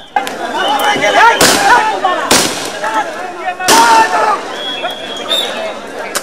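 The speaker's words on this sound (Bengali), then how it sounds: "আবার সাউন্ড গ্রেনেড, টিয়ারশেল নিক্ষেপ করে তাদের সরিয়ে দেওয়া হয়।" Sound grenades and tear gas shells going off during a street clash between exam candidates and law enforcement near Gulistan, Dhaka: three sharp, loud blasts spaced a couple of seconds apart over a steady crowd roar and shouting.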